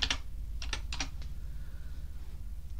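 A password typed on a computer keyboard during an operating system install, a short burst of close, crisp key clicks in quick clusters over a low steady hum, with no talking.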